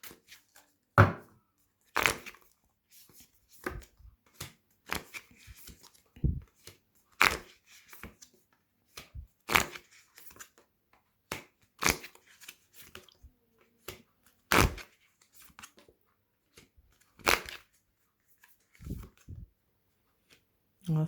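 Oracle cards are shuffled in a series of soft, irregular riffles and taps, close and intermittent, with quiet speech mixed in between the card sounds.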